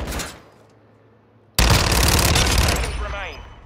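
Dense automatic gunfire in a video game bursts in suddenly and roars loud and continuous for about two seconds before easing slightly, following a brief quieter stretch with a voice.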